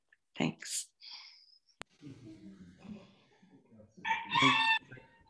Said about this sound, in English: the rooster and the other animals around you also appreciated what you shared